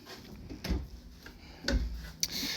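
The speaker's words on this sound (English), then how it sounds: "The drawers are not soft close." Pantry drawer in a 2021 Forest River Salem Hemisphere 378FL fifth-wheel RV sliding open and shut without soft close, giving two distinct woody thumps with a rubbing slide, close and fairly quiet.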